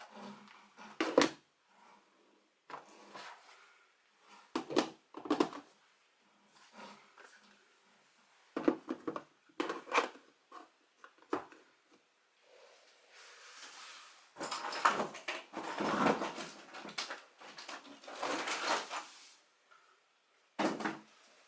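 A makeup drawer on a desk being opened and closed, giving sporadic short wooden slides and knocks with quiet gaps between them, plus a longer burst of rummaging and shifting partway through.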